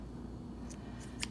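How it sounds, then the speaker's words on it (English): A few quick, crisp snips of scissors chopping herbs off their stems in a quiet room, three short bursts close together near the end. "So what I like to do is the scissors."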